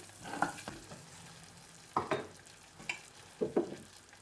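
Flour is stirred and lightly toasted in a pan for a béchamel sauce, making faint, intermittent scraping strokes with a soft sizzle underneath, a few separate swishes spread across a quiet background.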